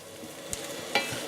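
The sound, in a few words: mushrooms cooking in a pan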